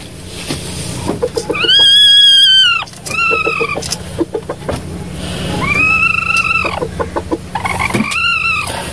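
A silkie hen in a nest box with her eggs nearly hatched gives loud, close, drawn-out protesting squawks and shorter clucks in irregular bursts while her eggs are being checked at night.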